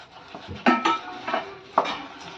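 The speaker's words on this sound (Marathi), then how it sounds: "आणि याला चांगलं सुकं होईपर्यंत आपल्याला मिक्स करत राहायचे" Spoon stirring a thick almond and khoa mixture in a pan, with a few scraping clinks and dull knocks against the metal in an uneven rhythm, close and clear, no voices.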